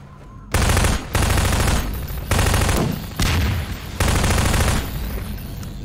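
Loud, close gunfire in the video game Half-Life 2: about five dense bursts of rapid automatic shots, each a second or so long, separated by brief pauses.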